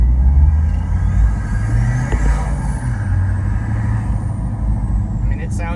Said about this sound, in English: it sounds just like you would expect a wide open exhaust